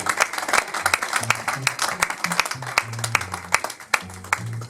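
Church congregation applauding during a worship service, a busy patter of hand claps mixed with voices and low murmuring, moderately loud and sustained.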